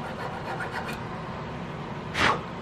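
A hand file rasps a casting burr off the rear sight of a flintlock Hawken rifle, giving a few soft, close strokes followed by one louder, sharper rasping pass, with no speech.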